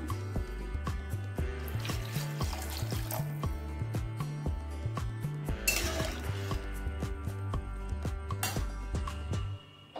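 Water is poured into a pot of rohu fish curry with ridge gourd, a running splash over clinks of utensils and pot, close and steady for several seconds before stopping.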